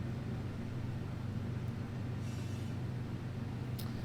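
A BNSF freight train labours up Cajon Pass in the Run8 simulator, a steady low engine drone and rumble with broad noise, constant and unbroken, with no talking.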